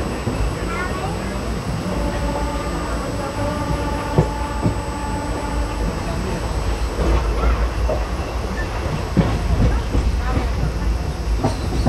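Prerna Express passenger train running on the rails near Chandur railway station, a steady rumble with clicking wheel beats and occasional knocks heard from inside a carriage, with voices talking over it.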